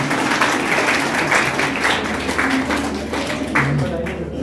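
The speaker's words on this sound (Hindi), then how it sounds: "नागौर वालों से आग्रह है कि दूसरे जिलों वालों के लिए अच्छी तालियां बजाओ थोड़ी" An audience at a school ceremony honouring girls on National Girl Child Day claps steadily and fairly loudly, a dense wash of hand claps with some voices mixed underneath.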